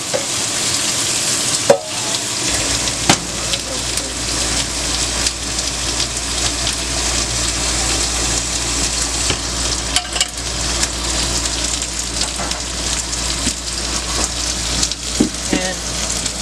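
Breakfast frying in a pan inside an RV at a campground, a steady, loud, hissing sizzle that runs throughout, with occasional clicks and utensil taps close by.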